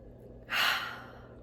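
A single deep breath drawn in, a soft airy inhale rising quickly and fading over about half a second, close and quiet against a near-silent background.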